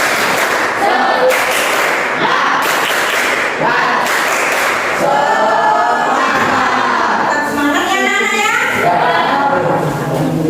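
A group of kindergarten children claps a quick patterned spirit-clap rhythm in a classroom, bursts of sharp claps alternating with chanting young voices, loud and close.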